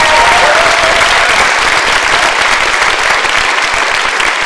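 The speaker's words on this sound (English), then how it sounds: "give a big round of applause to Kevin" Loud, sustained audience applause fills a symposium hall on AI, a dense steady wash of clapping from a large crowd that holds strong throughout.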